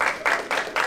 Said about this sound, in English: Clap it up for Christine.